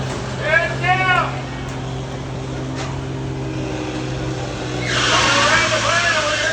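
A combine harvester racing around a bend at a county fair tough truck competition, a loud engine roar rising near the end, with a voice commentating over it.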